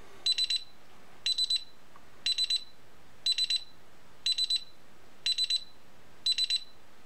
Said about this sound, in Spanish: Voy a conectar la alarma.